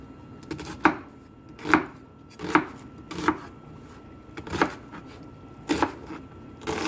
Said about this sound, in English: Alright, now the tomatoes are all done, so I'm going to be cutting the onion.